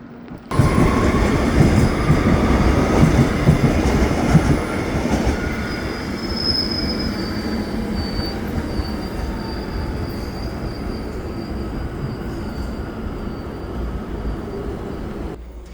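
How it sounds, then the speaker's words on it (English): Montreal REM train moving in winter, heard from the cab with a loud rumbling roll, high metallic wheel squeal drifting over it, and the noise easing to a steadier drone. "Oh, they're going to move the train."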